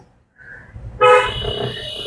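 A single car horn honks loudly and holds for about a second, heard from inside a vehicle over low engine rumble.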